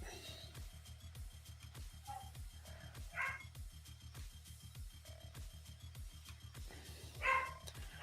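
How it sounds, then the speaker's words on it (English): Dogs bark and yip in the background, several short barks and a whimper-like call spread across the stretch, faint and distant under a steady low rhythmic hum with no speech. "I'm sorry about the dogs barking in the background."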